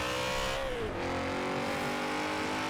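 Racing engine of a BMW E46 M3 GTR in Forza Horizon 4, a loud steady high-revving drone that dips briefly in pitch on a shift, then holds a strong sustained note, with no voices.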